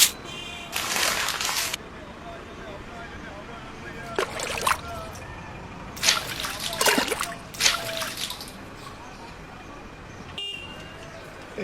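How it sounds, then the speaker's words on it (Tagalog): Water is poured and splashes across a floor in several separate gushing bursts, each a few seconds long. Voices talk in between and underneath. "Binubuhusan mo lang ng tubig eh."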